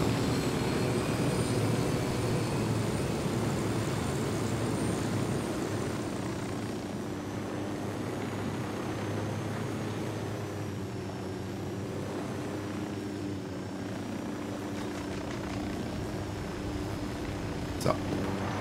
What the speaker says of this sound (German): Wir nehmen mal einen Helikopter mit.